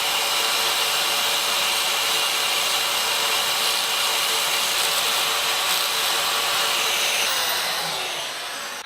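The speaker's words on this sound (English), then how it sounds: "I'm just going to show you a technique on what I would use just to sand this down using the bandsaw." A bandsaw set up for sanding grinds steadily against a small metal workpiece, held close to a scribed line, a continuous loud abrasive hiss that runs unbroken and tails off slightly at the end.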